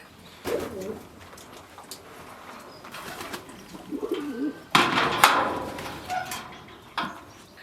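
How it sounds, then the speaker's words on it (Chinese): Pigeons coo nearby at a rural home in northern Shaanxi in several soft, throaty bursts, with a brief flutter of wings and quiet background noise between calls. "鸽子前几天抱了一个小鸽子，这个豆豆的话，又开始抱蛋着了"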